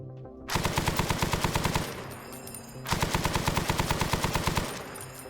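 Machine gun fire in Arma 3 Prairie Fire, two loud sustained bursts of rapid, evenly spaced shots separated by a brief pause, close and alone with no talk.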